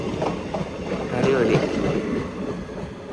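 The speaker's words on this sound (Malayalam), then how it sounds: "കുഞ്ഞു കുട്ടി പാസഞ്ചർ ട്രെയിൻ" A small eight-coach passenger train rolls through Suravali station with steady clickety-clack and rumble close by, while a man briefly exclaims over it.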